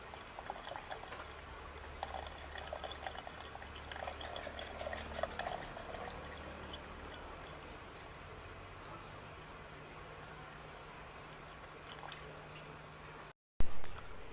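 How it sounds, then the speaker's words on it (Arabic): Water being drained off during distillation of oud wood oil: a continuous soft pouring and trickling of liquid with a low background rumble, ending in a brief louder clatter. "والحين شفتوا نزلنا الماء كله هني"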